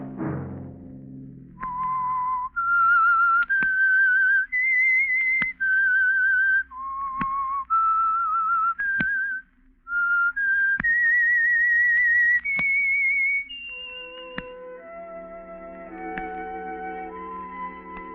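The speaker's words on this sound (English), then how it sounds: "Let that whistle be your signal for the Signal Oil program, The Whistler" The whistled theme of the 1946 radio mystery program The Whistler plays as a lone whistled melody of sustained, sliding notes that are clear and prominent. It is punctuated by sharp accents and closes with a short orchestral tail.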